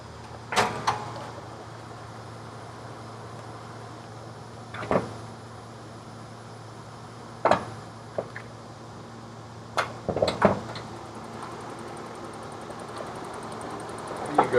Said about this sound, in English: We're going to open the hood